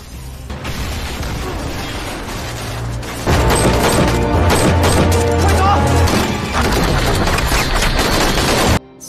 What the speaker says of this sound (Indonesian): sambil dihujani peluru